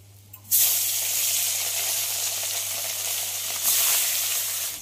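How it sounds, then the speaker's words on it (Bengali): Fish sizzling steadily in hot oil in a home kitchen pan, a loud continuous frying hiss that begins abruptly after a brief quiet moment, with a low hum underneath. "বাকি মাছগুলো ভেজে নেব।"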